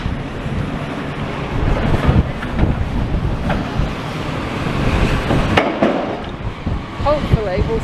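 Gusty wind buffets the microphone at a building demolition site, a loud continuous rumble with rising and falling gusts and faint site noise beneath.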